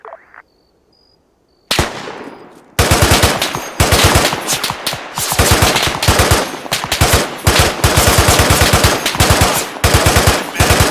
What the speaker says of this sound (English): Fire at that enemy! Engaging.